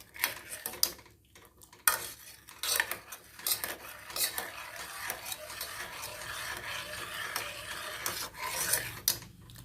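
A spoon stirs betel leaf payasam in a pot after saffron milk has been added, scraping and rubbing against the metal in an irregular rhythm. Close and fairly quiet, with no speech.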